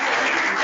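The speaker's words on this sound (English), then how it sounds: "Elsa is the only one that gets the applause." Brief burst of dense audience applause in a hall, loud and continuous for under a second.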